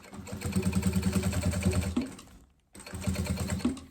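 A sewing machine stitching bias binding onto a box-style pencil case, fast rhythmic needle clatter in two bursts split by a brief pause, close and clear with no talk.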